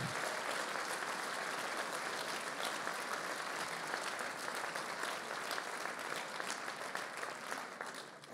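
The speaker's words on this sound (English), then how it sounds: "please give a hand of applause for these winners for the Research Awards" At a university Dies Natalis ceremony, an audience applauds research award winners with steady, full clapping that holds at an even level and fades slightly at the end.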